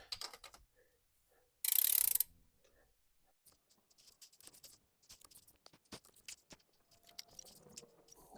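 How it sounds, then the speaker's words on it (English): Torque wrench ratcheting while torquing cylinder head bolts on a turbo LS1 engine in a Datsun 240Z, a brief loud burst followed by scattered quiet clicks and mechanical taps. "Okay, so this side is completely torqued down."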